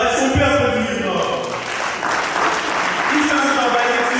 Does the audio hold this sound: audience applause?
yes